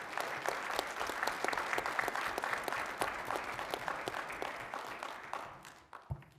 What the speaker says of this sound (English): please join me in a round of applause for our school board directors